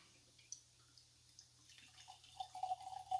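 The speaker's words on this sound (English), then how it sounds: "let's get it cracked open and get that pour going" Glen Ryan Scotch whisky is poured from the bottle, a faint trickle that grows into soft glugging and splashing near the end, quiet and without talk.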